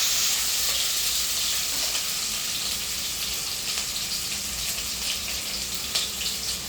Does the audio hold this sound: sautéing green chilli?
yes